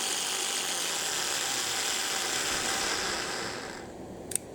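A standard screw drill without hammer action whirs steadily at high speed for several seconds, then winds down and stops with a small click.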